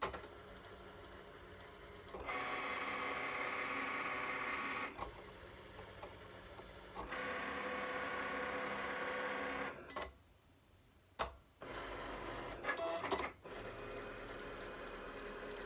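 A Cricut Explore cutting machine slices paper at regular speed, giving a soft, close mechanical whir that runs in bursts, with short pauses and clicks as the carriage changes direction between passes.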